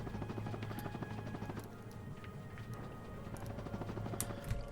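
A helicopter in the video game Ratchet and Clank 2 whirs in a steady rapid chopping beat at moderate level, with faint scattered clicks over it and no speech.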